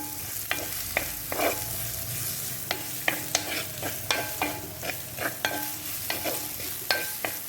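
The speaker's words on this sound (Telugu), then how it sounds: "ఉల్లిపాయలు, అల్లం ముక్కలు, పచ్చిమిరపకాయ ముక్కలు, ఇవన్నీ వేసేస్తానండి" Onions, ginger and green chilli pieces fry and sizzle in a pan, with a steady hiss broken by repeated sharp stirring scrapes and clinks, close and clear with no talking.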